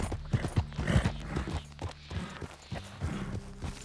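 Horse hooves clip-clop in the Red Dead Redemption 2 game, a rhythmic series of hoof strikes up close, moderately loud, over low background tones with no talk.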